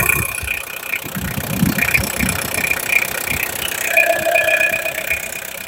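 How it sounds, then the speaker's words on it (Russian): A Kubota KH-033 mini excavator's diesel engine runs at a steady idle, recorded close up, with a continuous low rumble and a rapid light ticking from the injectors throughout. "Сейчас микрофон прямо сюда, дабы вы послушали, как он запускается"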